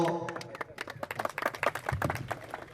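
An audience at a cotton and rice farming seminar claps to welcome a deputy director, a brief patter of scattered hand claps that is fairly faint and uneven.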